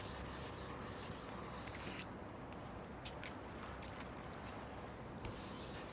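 Sandpaper rubbing wet over a surface, a continuous close scratchy hiss with faint strokes shifting in rhythm, no talk.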